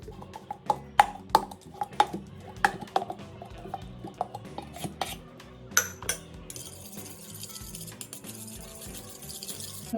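A metal vessel mashes peanuts and chana dal while cooking traditional spinach dal. It makes sharp, irregular knocks and clanks against the pot, which thin out into lighter clatter and scraping.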